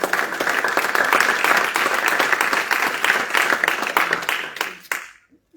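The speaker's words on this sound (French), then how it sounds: "Et nous acclamons le Seigneur bien fort pour sa parole." A church congregation bursts into sustained loud applause with cheering, dense clapping filling the room for about five seconds before cutting off abruptly into near silence.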